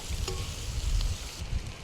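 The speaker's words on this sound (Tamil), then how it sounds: "காற்று அடிக்குது சரியா" Low rumbling wind buffets the microphone continuously, with faint clinks and rustles on top.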